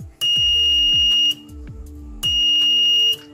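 A short-circuit protection buzzer on a PSU circuit sounds with an unconnected input, giving two loud, steady piercing beeps of about a second each with a brief gap between them.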